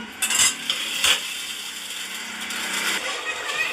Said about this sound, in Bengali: তো কিছুক্ষণ নাড়াচাড়া করে খিচুড়িটা কিন্তু একটু হতে দেব।